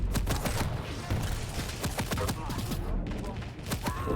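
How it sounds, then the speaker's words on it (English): Rocket launcher fire in a competitive Halo match, caught amid a dense barrage of sharp blasts and gunfire that crackles continuously and loudly, with a busy battle mix throughout. "Oh, good rocket from Django"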